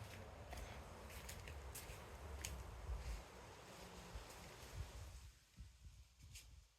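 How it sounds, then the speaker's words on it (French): Strong wind buffets the microphone in a steady, heavy low roar, easing a little toward the end, with faint hiss above. "Trop de vent, il y a trop de vent."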